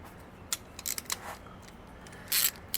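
A ratchet turning a 5/8 spark plug socket to remove a spark plug from a 2013 Toyota Prius C engine, giving a few short sharp clicks spread unevenly, close and fairly quiet, with no talk.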